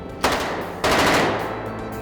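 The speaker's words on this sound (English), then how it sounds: "The Thompson, the Tommy gun, this is the most iconic kind of weapon of that era." A Thompson submachine gun firing blanks on a period drama set lets off two dense, loud automatic bursts, the first short and the second longer and sustained, with no voices.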